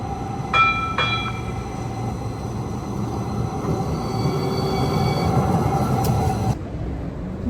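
A US commuter train rumbles and rattles past at close range, with faint wheel squeals over the steady clatter, before the noise cuts off abruptly near the end.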